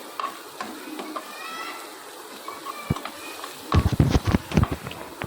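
Goat kidney and fat pieces stir-fried with spices for a Bakra Eid taka tak dish: steady sizzling under scattered spatula scrapes, building to a loud burst of rapid clattering stirs near the end.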